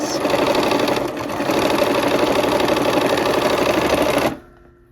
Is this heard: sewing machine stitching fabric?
yes